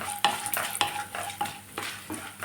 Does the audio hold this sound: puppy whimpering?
no